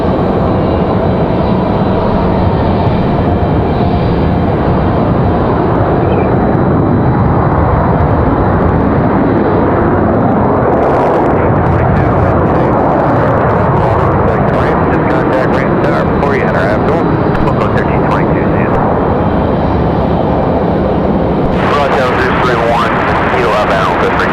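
A United Airlines jet lands at Raleigh-Durham International Airport, its engine roar loud and continuous throughout, swelling with a rougher rush toward the end. Someone talks over the noise.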